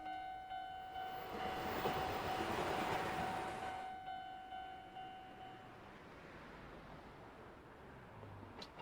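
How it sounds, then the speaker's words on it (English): A video game train rolls through a crossing, its bright sustained tones ringing over a broad rushing rumble that fades after a few seconds into a softer, steady passing noise. No speech. "I always get stopped by the train crossing."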